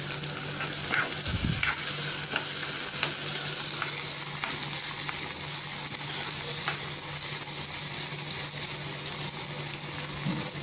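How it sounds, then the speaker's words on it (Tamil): Vegetables with carrot and a red chilli sauté in a pan, giving a continuous close sizzle and crackle with a steady low hum and occasional soft stirring scrapes, no voice. "நல்லா வதம் போட்டோம்."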